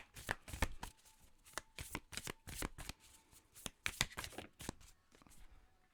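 Tarot cards riffle and snap in a rapid series of crisp shuffles and flicks, close and fairly quiet, with no one talking.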